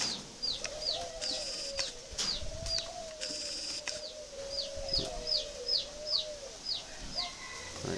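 Soft, repeated spotted dove cooing in a steady rhythm, with sharper high chirps from other birds scattered over it, fairly close by.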